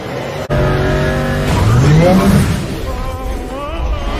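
A film car chase, with a car engine roaring and tires squealing in a rising screech mid-clip, loud and close amid dramatic soundtrack noise.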